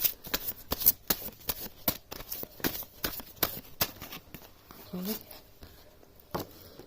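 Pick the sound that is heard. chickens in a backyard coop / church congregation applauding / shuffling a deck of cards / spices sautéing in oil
shuffling a deck of cards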